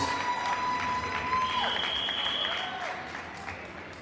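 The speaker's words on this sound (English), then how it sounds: "Will you join me in just giving Congresswoman Norton an applause, a round of applause?" A round of applause fills a hall at a candidates' forum, a steady, moderately distant wash of clapping from a crowd with a faint whistle-like tone over it.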